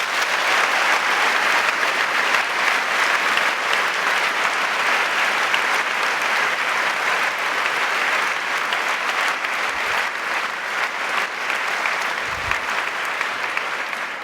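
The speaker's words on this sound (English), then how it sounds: "So a big round of applause for our staff." An audience applauds steadily and loudly for about fourteen seconds at a university event, the dense clapping holding at an even level throughout.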